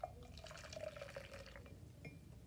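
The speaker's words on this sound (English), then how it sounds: "and I'm going to put 1 cup of water" One cup of water poured into a cup for a crystal-growing experiment, a faint short trickle with a rising tone as the vessel fills, quiet and close.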